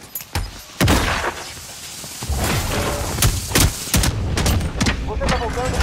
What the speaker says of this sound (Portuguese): Fragmentação lançada. Lançando a granada.